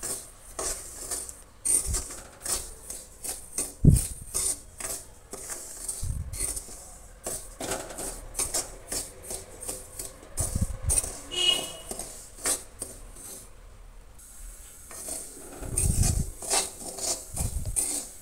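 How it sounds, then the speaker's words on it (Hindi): Dry semolina (suji) roasting in oil in a pan on a low flame, stirred quickly, giving repeated scraping and rasping strokes of a spoon against the pan with occasional knocks, close and irregular, no talking. "इसको हम जल्दी जल्दी चलाते हुए भूनेंगे ताकि जले ना अच्छे से।"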